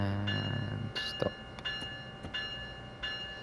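An Amtrak ACS64 locomotive's bell rings in Train Sim World 2 at New York Penn station, a few evenly spaced metallic strikes over a steady humming engine drone.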